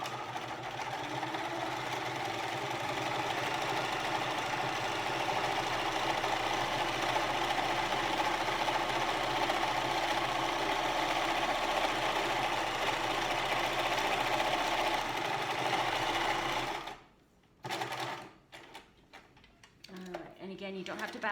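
A sewing machine runs a zigzag stitch along a fabric edge to finish it, a steady fast mechanical whir holding for about seventeen seconds before stopping, followed by brief rustling and handling noises.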